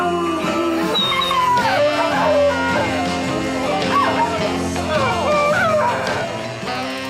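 A desert dog howls along to music, his wavering, sliding howls rising and falling over a steady instrumental backing for several seconds.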